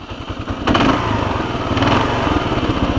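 A motorcycle engine turns over and catches while in neutral, then surges as the throttle is twisted, giving a loud, steady, close-up buzzing drone.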